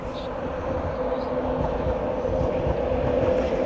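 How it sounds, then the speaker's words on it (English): An Intercity 225 set runs through Doncaster station from London King's Cross to Leeds with a loud, close, continuous rumble and a steady rhythmic clatter of wheels on rails. "Intercity 225 set from London King's Cross to Leeds."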